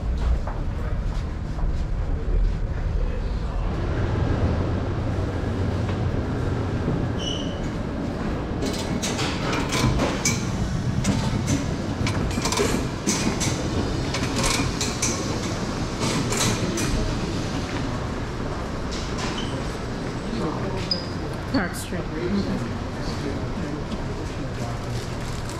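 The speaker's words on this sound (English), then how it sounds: "That's the number 2 train we took and we are at Clark Street now and we're still in the subway" Inside a New York City subway station at Clark Street, a number 2 train rumbles steadily with metallic clicks and squeals, a constant loud underground roar throughout.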